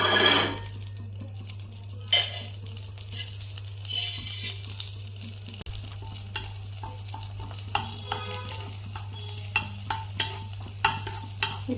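Butter melts and sizzles in a hot pan for restaurant-style matar paneer, a soft continuous crackle over a steady low hum, punctuated by occasional scraping clinks of a spoon against the pan.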